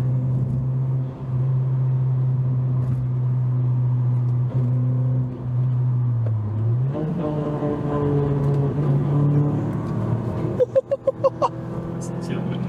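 A Renault Twingo 2 RS engine rumbles low and steady, then revs up, taking on a throaty motorbike-like growl, with a few sharp clicks near the end.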